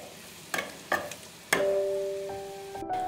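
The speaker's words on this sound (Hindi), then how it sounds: "इसे थोड़ा भूनने देंगे" Garlic roasting in butter in a pan for tomato soup: a few spoon taps and stirs, then a steady close sizzle that carries on alone.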